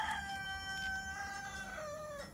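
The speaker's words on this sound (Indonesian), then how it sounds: "Dan sorry kalau ada bunyi suara ayam." Rooster crowing with long drawn harmonic calls and some clucking from chickens, steady at moderate distance throughout, with no talk over it.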